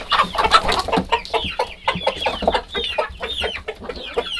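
Several hens cluck and chatter busily close by while eating boiled potato peels, overlapping short calls in an irregular, lively rhythm with no one talking.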